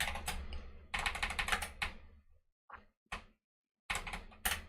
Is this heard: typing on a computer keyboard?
yes